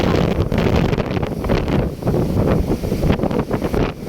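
Strong southwest monsoon wind buffets the microphone at a rough sea shore where big waves keep fishing boats from landing, giving loud gusty rumbling and blustering that swells and dips throughout.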